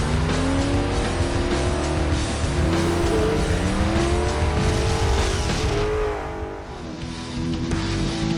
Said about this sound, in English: That's now 650 horsepower getting to the rear tires of this supercharged S197 Mustang.